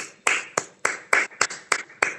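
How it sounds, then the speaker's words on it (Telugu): Children in a class clap together in eight distinct bursts, a steady rhythmic beat of sharp, fairly close hand claps with no talking. "ఇప్పుడు నిష్కళకి అందరూ క్లాప్స్ కొట్టాలి గట్టిగా"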